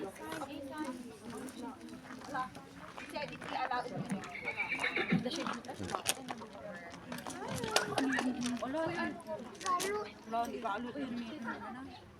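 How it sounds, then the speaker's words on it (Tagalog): Horses whinny loudly several times amid hoof clip-clops, with people chattering and talking throughout in a busy outdoor setting. "Tapos tumakbo yung kabayo."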